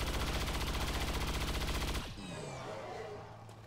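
Rapid automatic gunfire in XCOM 2, aimed at a mind-controlled enemy, rattles in a tight, steady burst for about two seconds, then cuts to a softer sweeping tail.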